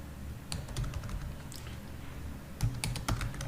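Code being typed on a computer keyboard: quiet, steady key clicks fall in irregular bursts, with a denser flurry of taps near the end, close and alone with no talk.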